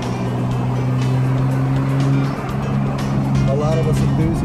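A car drives along a rolling country road, its steady engine drone and tire roar filling the cabin continuously and fairly loudly, with a brief dip in the middle.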